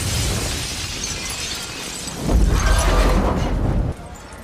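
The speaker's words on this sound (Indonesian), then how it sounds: "Laptop tersebut pun berhasil dilempar sebelum bomnya meledak." A bomb going off in an action film scene, a sudden deep boom with shattering debris that swells for over a second before cutting off, following a stretch of tense background sound.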